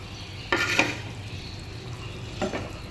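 Potatoes go into frying masala in a pan: a soft continuous sizzle with two short clattering stirs, one early and one near the end, close and moderately loud, no speech.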